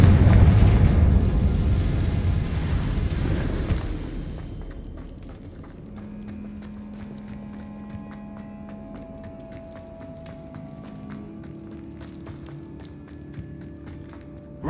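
A Confringo spell explosion in a video game booms loudly and rumbles for a few seconds, then fades into quiet cave ambience with light footsteps and faint tones.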